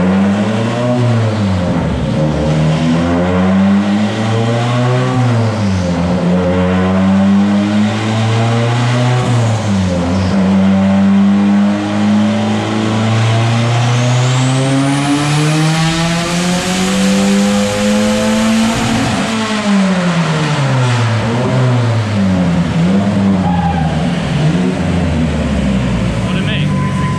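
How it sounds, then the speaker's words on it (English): A turbocharged Nissan 240SX makes a dyno pull in fourth gear on high boost, its loud engine note rising and falling in repeated sweeping surges of revving for nearly half a minute, close and continuous. "This is high boost, fourth gear, which is 1-to-1 gear ratio."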